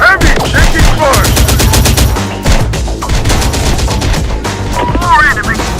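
Rapid automatic gunfire and explosive bursts rattle loudly and continuously through a chaotic firefight in the video game Terminator Dark Fate Defiance, with shouted voices cutting in over the shooting.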